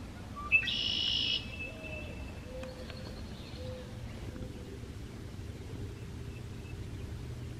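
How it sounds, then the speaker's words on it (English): A male red-winged blackbird by a lake in Jefferson Memorial Forest on a May morning gives one short, bright trilling call near the start, then only faint, sparse calls over quiet outdoor ambience. "That's a male red-winged blackbird."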